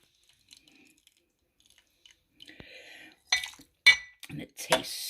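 Dishes and cutlery clink while French onion soup is plated, with a few sharp, close clinks and scrapes near the end after a quiet start.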